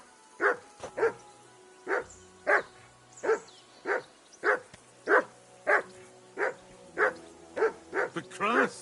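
Dog barking in Kingdom Come: Deliverance II, a steady run of about fourteen loud, close barks at a regular pace over roughly nine seconds, ending in a quick cluster of yips.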